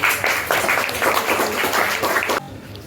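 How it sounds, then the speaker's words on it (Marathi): At a school Teachers' Day event, an audience claps to welcome the headmaster, a dense burst of applause that holds for over two seconds and then stops abruptly. "सर्वांनी टाळ्या वाजवून एकदा स्वागत"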